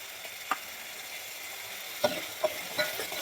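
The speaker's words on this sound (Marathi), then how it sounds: "हे बघा कांदा आपण तेल सुटेपर्यंत भाजून घेतलाय. आता यामध्ये आपण टोमॅटोची पेस्ट घालूया." Onion and tomato paste fry in oil with a steady soft sizzle, broken by a few distinct scrapes and knocks as a spoon stirs the pan.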